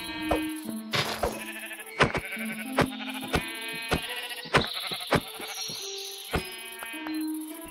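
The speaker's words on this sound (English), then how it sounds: "Ooh, a sheep, I can make a bed out of you." Sheep in the Minecraft video game bleating over and over, loud wavering baas in quick succession with sharp clicking sounds between them and no voices.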